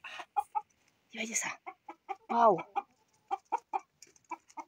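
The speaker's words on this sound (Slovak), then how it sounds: "Takže vám to natáčam teraz u mojich obľúbených sliepočiek" Pet hens clucking in short, repeated bursts close by, one drawn-out squawk in the middle, with a person speaking briefly between the calls.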